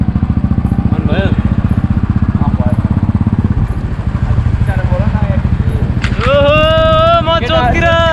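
A motorcycle engine idles close by with a fast, even putter throughout, while voices talk over it toward the end.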